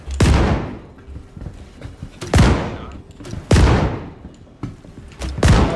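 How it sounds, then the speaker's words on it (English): Video-game explosions boom in a series of four loud, heavy blasts about a second apart, each with a long rumbling decay. Narcotics are being blown up. "I was so confused what those explosions were"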